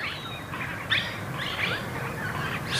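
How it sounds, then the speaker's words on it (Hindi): Birds chirping outdoors during a group meditation session, a steady chorus of high tweets and calls over constant background hiss, fairly loud with no talk. "इन पक्षियों का कलरव सुनाई देता।"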